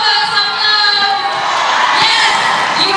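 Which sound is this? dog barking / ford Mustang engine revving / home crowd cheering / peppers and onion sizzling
home crowd cheering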